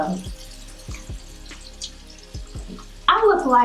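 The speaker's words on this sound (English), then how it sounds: "I hope the water's not too loud, but baby, I gotta rinse my face." Tap water runs into a sink while someone rinses their face, with splashes and drips, then a louder gush of water near the end.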